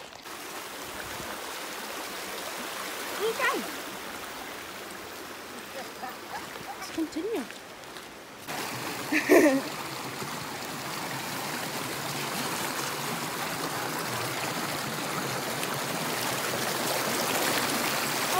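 Rushing water at a waterfall fills the background as a continuous broadband roar that grows louder and fuller partway through, with a few brief voices speaking over it early on.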